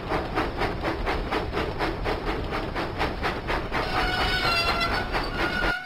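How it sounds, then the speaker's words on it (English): Thomas the Tank Engine steam train puffing along the tracks in a video game, a steady rhythmic chuff of regular beats under rolling wheel clatter, loud and close throughout with a faint whistle-like tone near the end. "Thomas pumped his pistons and puffed out of the docks."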